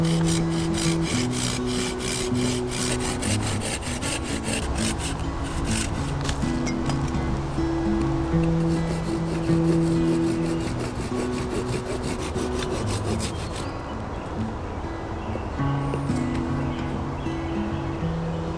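Hand saw cutting through a piece of wood braced on a log outdoors: continuous rasping back-and-forth strokes, close and fairly loud, with no talk.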